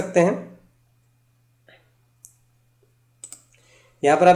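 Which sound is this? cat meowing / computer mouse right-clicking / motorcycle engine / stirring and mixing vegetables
computer mouse right-clicking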